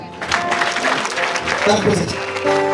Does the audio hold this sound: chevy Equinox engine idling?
no